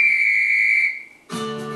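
A referee's whistle ending a match blows one long, steady, piercing blast lasting nearly a second, then fades out. A burst of other broadcast sound follows.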